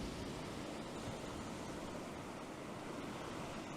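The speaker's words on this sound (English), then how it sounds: "Just waiting for the perfect wave motion to come in." Sea waves washing around a rock on the Llyn Peninsula coast, a continuous broadband rush of surf that stays level and unbroken, with no voices.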